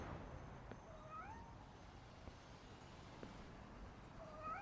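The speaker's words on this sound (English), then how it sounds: "There's a cat." A cat meows a few times in the Superman Returns video game, short faint cries over steady background ambience.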